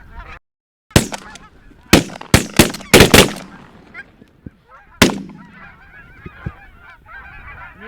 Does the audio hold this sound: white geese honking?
yes